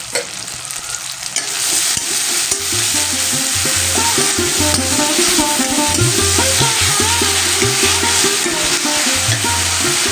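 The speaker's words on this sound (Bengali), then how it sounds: "টমেটোটা একদম নরম হয়ে যাওয়া পর্যন্ত আমরা এভাবে নাড়তে থাকবো" Onion and chopped tomato fry in a pan with a steady sizzle, while a spoon scrapes and knocks against the pan in a regular stirring rhythm, loud and close.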